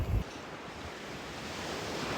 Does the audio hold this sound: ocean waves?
yes